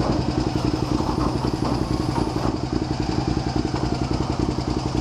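A motorcycle engine idles steadily with a fresh rectifier installed during an electrical charging test, a continuous close, even rumble with light mechanical clatter and no speech.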